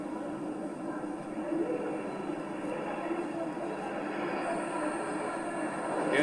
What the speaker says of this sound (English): airborne early warning and control विमान AEWNC 4 Rafale arrow formation में 415 kilometre की रफ्तार के साथ